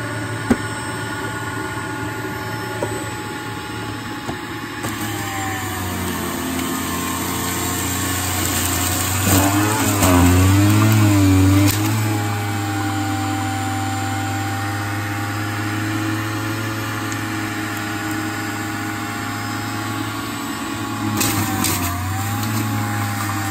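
A Breville Juice Fountain Plus juicer runs on its low setting while an apple is fed in, a continuous close motor whine with a deeper strained grinding swell in the middle as the fruit is processed.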